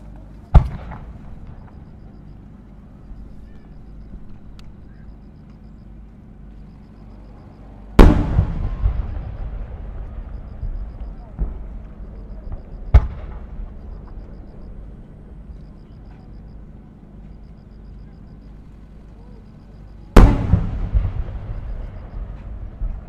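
Several sharp, loud booms of Japanese fireworks shells bursting at irregular intervals at the Omagari fireworks competition, each followed by a fading crackle and echo in an otherwise quiet night.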